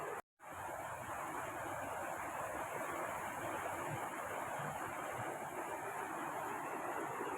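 A river flows beside a homestay at Rishikhola, its steady rushing water loud and close. The sound runs continuously after a brief cut at the very start.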